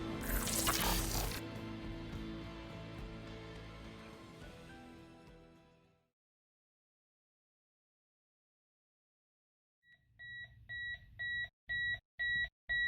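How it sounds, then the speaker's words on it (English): After a loud wash of sound fades into silence, an alarm clock starts up with a regular run of sharp electronic beeps in short repeating bursts, close and clear. "Your alarm is buzzing."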